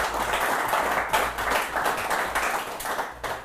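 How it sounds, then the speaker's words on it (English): Studio audience applauding in-studio guests from the Johannesburg chapter of the Young Presidents Organization, a sustained round of close, crisp clapping in uneven waves for several seconds. "A round of applause to our in-studio guests from the Johannesburg chapter of the Young Presidents Organization."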